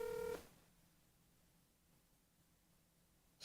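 A single short telephone keypad dialing tone sounds at the very start of a cold call to a window tint shop, then gives way to a faint, steady line hiss.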